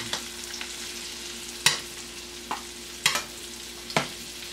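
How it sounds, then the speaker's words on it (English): Salmon basted with hot butter in a tilted pan: a steady low sizzle runs throughout, broken by several sharp spoon-and-pan clinks and louder spattering bursts as butter is spooned over. "just tilt the pan, get all this hot butter, and we're just going to baste it."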